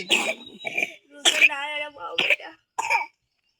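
A person coughs and clears their throat in a few short, rough bursts, mixed with brief voiced sounds, close and fairly loud.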